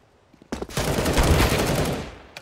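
An LMG in Counter-Strike: Global Offensive fires a sustained, rapid burst of automatic gunfire lasting under two seconds, loud and close, after a brief quiet moment.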